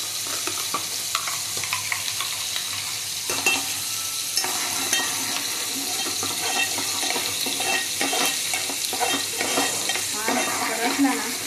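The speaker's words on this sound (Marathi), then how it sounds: "छान असा तेलात परतून घ्यायचा" Green ground masala paste frying and being stirred in hot oil in a home kitchen, with a steady close sizzle, scraping stir strokes and intermittent clatter, plus running tap water in the background.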